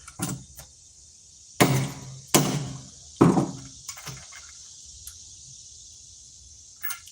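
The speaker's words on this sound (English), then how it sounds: "Hitting it on the bolt of the table." A handmade wooden zombie bat toy is struck against the bolt of a table, giving several sharp, loud knocks at irregular intervals, close up, with no talking.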